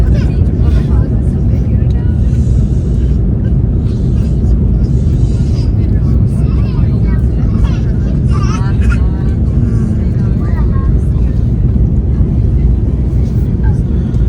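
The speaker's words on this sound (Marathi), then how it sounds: "हा बघा विमान वरती उडालेलं आहे" Loud, steady low roar of airplane cabin noise in flight, constant throughout, with people talking faintly underneath.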